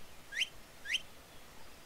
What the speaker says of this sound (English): Now whistle three times.